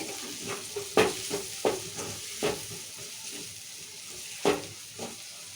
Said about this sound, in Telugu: ఇప్పుడు కారం పొడి కూడా నూనెనే ఉడికించుకోవాలి